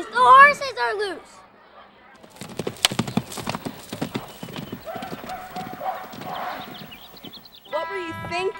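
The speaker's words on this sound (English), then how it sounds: "The horses are loose!" Loose horses gallop with rapid clip-clopping hooves, and a horse whinnies loudly at the start. Shouting voices and crowd noise mix in, and another neigh comes near the end.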